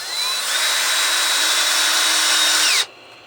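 A power screwdriver drives a long screw into wood to hang storage bins, a loud steady whirring drone lasting nearly three seconds before cutting off abruptly into quiet.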